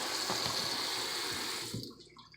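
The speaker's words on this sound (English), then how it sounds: "Pour that dirty water off." Dirty soaking water is poured off rice in a steady, splashing stream that runs for nearly two seconds, then thins out and stops, close and fairly loud with no talking.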